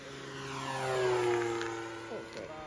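A Hanger 9 F6F Hellcat RC model airplane makes a low, fast pass, its engine drone rising in pitch and swelling loud as it nears, then falling away, with faint voices near the end.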